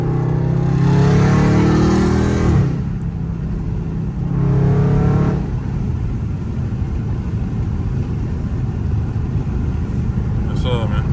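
Loud Scat Pack muscle car engine revving and accelerating while driving in traffic, two strong rev bursts followed by a steady heavy rumble, close and dominant throughout.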